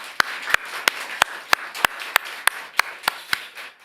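A church congregation claps in a steady, even rhythm, each sharp clap evenly spaced over a few seconds, fairly close and with no talking.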